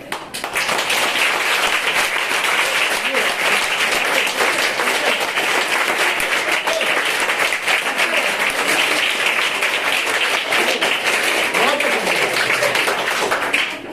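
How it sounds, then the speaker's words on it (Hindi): Schoolgirls at a health and hygiene awareness program in a Muslim girls' school give steady, dense applause for fourteen seconds, loud and continuous, with a faint voice underneath. "इसको ताली कहते हैं।"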